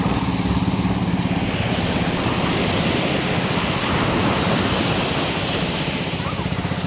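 Strong ocean waves break on a beach in a loud, continuous roar of surf, with wind buffeting the microphone throughout.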